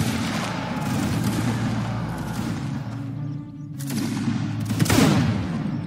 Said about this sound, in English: Everyone, fire at will.